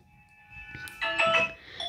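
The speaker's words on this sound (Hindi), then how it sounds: "यहाँ पे अलग अलग रिंगटोन आपको सिस्टम के अकॉर्डिंग मिल जाते हैं" A vivo V30 Pro smartphone plays one of its built-in system ringtones: a short, bright melodic chime of clear tones, fairly quiet and close, swelling briefly in the middle with no voices over it.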